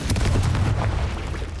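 A Confringo blasting spell explodes in Hogwarts Legacy: a loud, heavy, rumbling boom that fills the short moment with dense low-end force and no talk.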